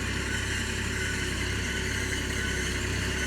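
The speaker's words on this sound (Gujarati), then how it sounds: "મલ્ચિંગ માટે આપણે ટ્રેક્ટર ચાલુ જ છે." A tractor engine runs steadily during mulching work on a farm field, a continuous loud mechanical drone with no break and no voices over it.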